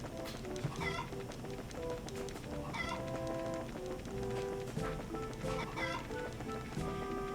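Chickens cluck in the Trails in the Sky SC video game, with repeated short clucks over steady game music throughout.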